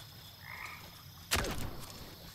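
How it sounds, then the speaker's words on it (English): A frog croaks once in a swampy video game setting, a short loud burst standing out over a quiet ambient background. "Yes, I realized that was a frog."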